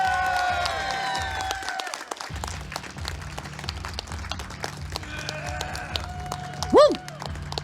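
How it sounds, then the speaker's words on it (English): A crowd at a fighting-game tournament's top-eight finals applauds and cheers the newly crowned champion, steady clapping under a speaker's voice and a brief loud whoop near the end. "can you all give a massive applause to Jads?"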